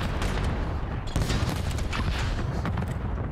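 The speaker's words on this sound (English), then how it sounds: "Everything just exploded." Explosions and rapid gunfire erupt at the start of a high-rise round in a professional Call of Duty match, a dense, continuous barrage of bursts and blasts with no clear pause.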